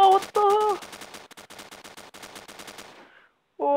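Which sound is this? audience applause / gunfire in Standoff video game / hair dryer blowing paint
gunfire in Standoff video game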